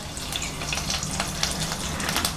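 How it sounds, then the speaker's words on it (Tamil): Halved chilies hit hot oil already crackling with mustard seeds and curry leaves, producing a steady, dense sizzle and fine spattering throughout, close and moderately loud, with no speech. "இப்போ ரெண்டாக கட் பண்ணி வச்சுருக்க மிளகாயை போட்டுக்கலாங்க"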